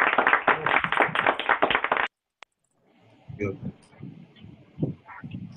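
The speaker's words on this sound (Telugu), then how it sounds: "wonderful claps" Brief burst of audience applause after a Christian song at a music college gathering, lasting about two seconds before cutting to silence, followed by a voice speaking.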